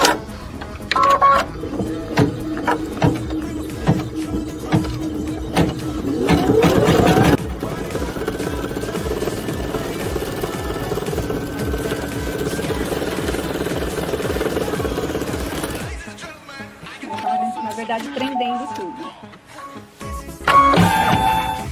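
Computerized embroidery sewing machine stitching a headphone holder project, a steady whirring, rattling run of rapid needle strokes close by, with a brief pause and restart near the end.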